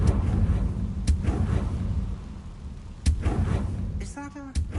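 Confringo fire-spell blasts in the video game Hogwarts Legacy land as several dull, booming impacts spread across the moment, over a constant rumbling game soundtrack, with brief chattering effects near the end.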